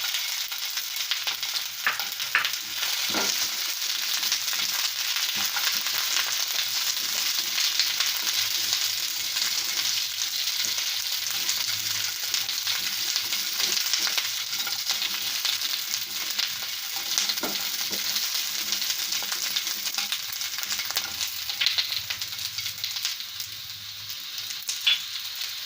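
Capsicum fries in a pan with a soft, steady hiss and sizzle over nearly half a minute, punctuated by occasional light stirring clicks and scrapes, moderately quiet and without speech.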